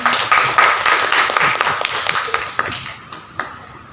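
Audience clapping in an auditorium after a Kannada song performance, a dense patter of many hands that gradually thins and fades over a few seconds, with a few isolated claps near the end.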